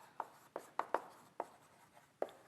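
Chalk tapping and scratching on a board while math is written in a calculus lecture, a series of about seven short, sharp knocks spaced irregularly, moderately close, with no talking.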